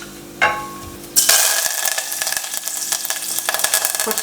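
Whole spices, a small piece of cinnamon with two cloves and two cardamom pods, drop into already hot oil in a pan. A sharp burst of sizzling starts them off and settles into a steady crackling fry with no talk.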